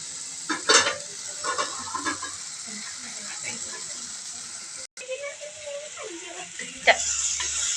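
Onions and tomatoes with crushed chilli sizzle steadily in a pan for a dry sardine curry cooked without water, with scraping stirs throughout, a brief sharp clatter midway and a soft voice underneath.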